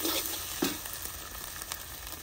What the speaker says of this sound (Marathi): पेस्ट आपण तेल सुटेपर्यंत परतून घेणार आहोत